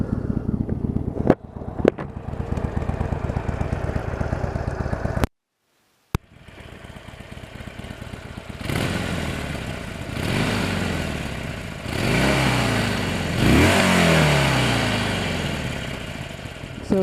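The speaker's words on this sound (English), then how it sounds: "let you guys listen to what this bike's about." A 2016 Harley-Davidson Forty-Eight motorcycle runs close by, idling with a deep, loping rumble, then going briefly silent before revving several times in rising, rhythmic surges.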